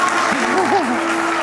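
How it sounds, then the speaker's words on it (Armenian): An audience at the final of a televised humor league show applauds in a steady, dense wash of clapping. A voice rises briefly over the ovation, which stays loud throughout. "Բարձր ծափարենք։"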